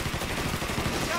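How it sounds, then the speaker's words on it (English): Enemy gunfire in the Mafia 3 video game at a funfair, a dense rattling burst of rapid shots filling the whole moment, loud and continuous. "This guy up there, I can see where he's firing from."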